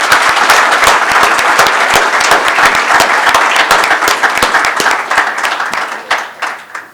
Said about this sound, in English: So if we can have a round of applause for a very,